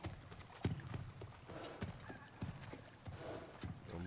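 A kelpie's hooves clip-clop in God of War Ragnarok, a horse-like creature walking with a steady sequence of fairly close, muffled thuds and no speech over them.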